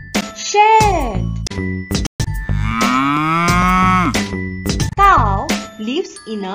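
A cow moos in several long, drawn-out lowing calls, loud and close, with a faint jingling tone in the background and no talking.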